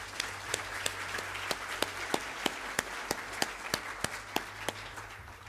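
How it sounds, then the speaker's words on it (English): Steady applause from an awards ceremony audience, with sharp, regular claps standing out above a continuous wash of clapping, fairly close. "Let's give the Premier and the Minister another round of applause, please."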